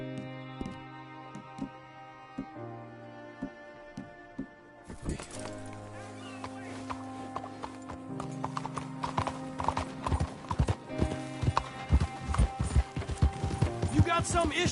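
Horse hooves clip-clop in a video game, starting as sparse steps over a held musical tone, then quickening into a steady, close, rhythmic gallop over music.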